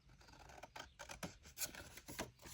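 Scissors snip through 8x8 craft paper in a short series of quiet, crisp cuts, each blade closure a soft crunching slice close to the listener.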